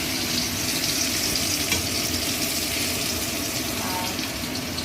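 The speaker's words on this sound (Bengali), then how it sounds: "এই যে মাংসের আলুটা ভাজছি, দেখো লাল লাল করে মাছ চিকেনের আলুটা ভাজছি।" Potato pieces fry in hot oil in a pan for a Bengali meat curry, a steady close sizzle running without break throughout.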